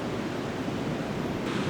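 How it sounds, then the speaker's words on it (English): Wind buffeting a microphone on a New Zealand coast, a dense, steady roar of broadband noise with no pauses and no voices. "It's a little bit windy, so I'm hoping the sound's going to be okay."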